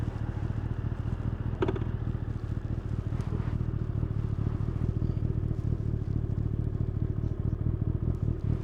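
A motorcycle engine idles at a steady, low, continuous rumble nearby, with no talking.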